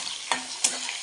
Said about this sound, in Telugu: కొంచెంసేపు ఉల్లిపాయలు బాగా వేగినాయి.